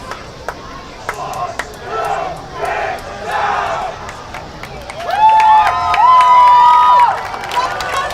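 A crowd at a night high school football game between Grosse Pointe South and Grosse Pointe North roars and shouts in waves, with a sustained swell of cheering near the end and a few sharp claps and whistles mixed in.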